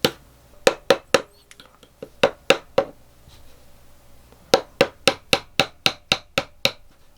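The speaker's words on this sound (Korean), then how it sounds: "잘 고정하신 상태에서 망치질을 하면은 이게 이제 키가 올라가게 됩니다" A hammer strikes a kalimba key to raise it during handmade kalimba building, giving sharp, close metallic taps: a few quick blows, a pause, then a steady run of about a dozen evenly spaced hits.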